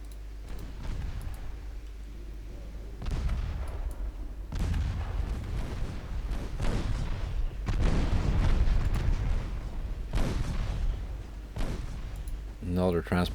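Naval main guns firing in the video game Ultimate Admiral Dreadnoughts, a series of deep booming shots and rumbling blasts rolling one after another, loud and heavy, with battle noise continuing between them.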